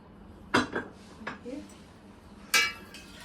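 Dishes and cutlery clink while meatballs and rice are served at home: two sharp close clatters of utensil on plate, a few softer taps between, and a quiet kitchen background.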